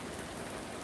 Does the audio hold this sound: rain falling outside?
yes